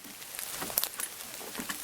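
Rain falling outdoors among ferns and other foliage, a soft steady patter with scattered brief drop sounds, fairly quiet and continuous, no voices.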